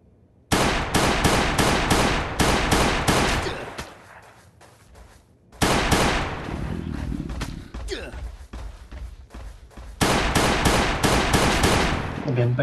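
Rapid automatic gunfire fires at an enemy in Last Day on Earth, loud bursts in several long volleys separated by quieter gaps, with speech and other game sounds in between.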